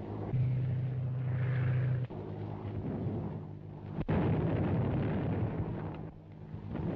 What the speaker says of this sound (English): Landing tear gas bombs all around them, but they don't seem to have any effect.